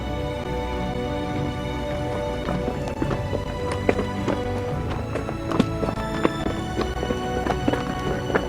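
Horses' hooves clip-clop along the Colorado Trail at altitude, an irregular run of close, crisp hoof strikes over a steady rumble of movement, with faint talk.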